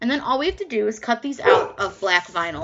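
A dog barks in short yips and woofs mixed in with someone talking close by, in a home crafting space. The barks are tangled with her speech rather than standing apart.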